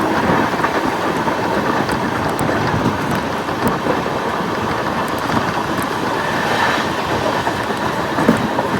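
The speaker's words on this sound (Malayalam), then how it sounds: "Mangaluru central Rameswaram weekly express തണ്ട് ഇതാ രാമേശ്വരം സ്റ്റേഷനിലേക്ക് കയറുവാണ്" The Mangaluru Central–Rameswaram weekly express rolls into Rameswaram station with a loud, steady rumble and clatter of wheels that carries on throughout, and there is no talk.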